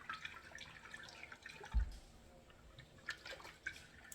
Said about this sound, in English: all I'm gonna do is give this a good stir to help the sugar dissolve